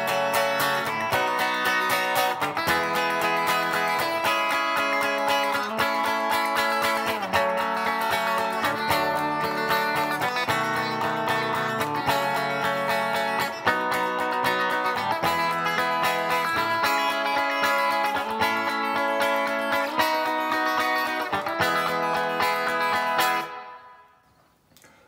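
Steady, evenly strummed acoustic guitar chords from the verse of a song ring out in a regular rhythm, changing chords every bar before stopping abruptly near the end.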